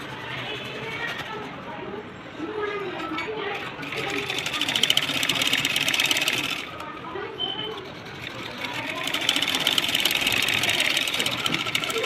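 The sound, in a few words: sewing machine stitching a blouse, double stitch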